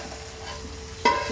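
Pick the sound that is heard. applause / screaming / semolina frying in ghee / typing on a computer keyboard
semolina frying in ghee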